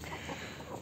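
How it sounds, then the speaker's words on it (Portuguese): Free-range farm chickens scratching about and clucking softly, a brief low murmur of hens close by with no speech over it. "as galinhas ciscando aí, ó."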